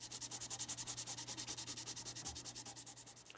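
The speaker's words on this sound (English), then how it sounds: "I sanded my way through several grits." Rhythmic back-and-forth sandpaper strokes on a screwdriver's wooden handle, worked through several grits: a steady hiss with regular pulses about eight per second, close and continuous with no talk.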